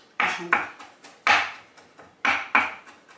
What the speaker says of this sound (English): let me get chopping